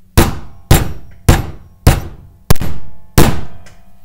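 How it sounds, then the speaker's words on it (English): Six sharp metallic hammer taps strike at a steady pace, seating a bullet into a cartridge casing for reloading, each a close, loud thunk with a brief ringing decay, no talking. "you're going to hit it with a hammer"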